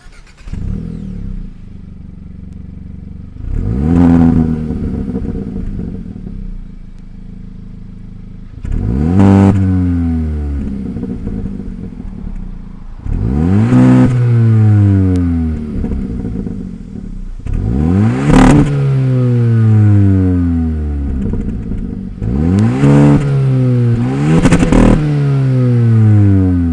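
A 2023 Hyundai Elantra N-Line's 1.6-liter turbocharged engine starts and is revved several times, each rev rising sharply in pitch then falling back to a steady idle, loud and close.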